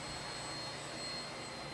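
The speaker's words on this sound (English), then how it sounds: "this helicopter is really easy to keep steady" A Blade 70S toy RC helicopter flying indoors in a living room gives a steady, even whirring hum of small rotor and motor, with a faint high whine running constantly throughout.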